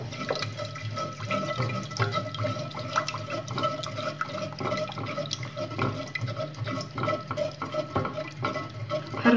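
Flour and milk batter being stirred steadily in a pot as milk is poured in bit by bit, a continuous soft sloshing and scraping with liquid trickling, moderately close and with no talking.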